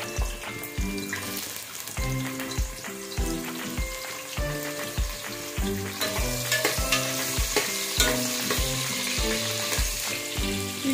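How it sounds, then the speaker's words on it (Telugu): Chopped onions frying in hot oil for soya chunks biryani, a loud, steady sizzle with repeated rhythmic scraping strokes of a spoon stirring through the pan, no voices over it. "ఉల్లిపాయలు వేసుకుంటున్నాం ఫస్ట్."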